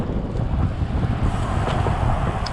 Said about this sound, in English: If you can hear me in the wind.